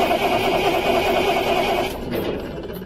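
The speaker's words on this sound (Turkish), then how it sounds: "Hadi bakalım ilk marş 3 yıl sonra." A Ural 6x6 truck's engine cranks and tries to start after sitting unused for three years, a loud steady mechanical churn that drops off near the end.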